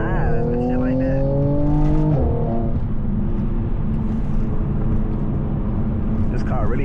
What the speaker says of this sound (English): If y'all ever wonder why people cars sound like that, it's the blow-off valve.